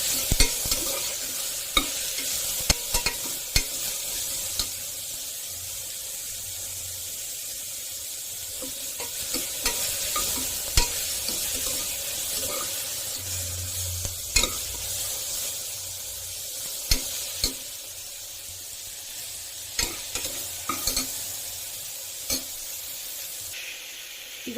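Mint and coriander leaves roasting in a pan, a soft steady sizzle broken by frequent sharp scrapes and taps of a spoon stirring, close by.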